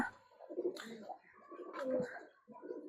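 Soft, low pigeon coos roll on steadily, close and gentle, with a faint rustle around them and no voices.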